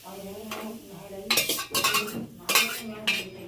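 A ladle scrapes and clinks against a metal pot as kadhi is stirred, several loud metallic scraping strokes in uneven rhythm over a faint bubbling simmer, close by.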